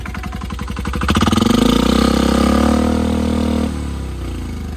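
A Polaris or Arctic Cat diesel UTV engine held at full throttle: a loud, close, steady pulsing drone that climbs in pitch and roars for a few seconds, then drops back to a lower idle.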